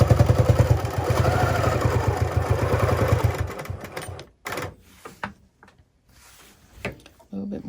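A sewing machine runs steadily as it stitches in the ditch on a quilt, with a rapid, even whirring hum. It then stops, and a few short taps and soft handling sounds follow.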